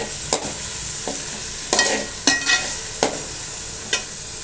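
Tomatoes sizzle steadily in a hot pan while a utensil stirs and scrapes them in irregular strokes, close up.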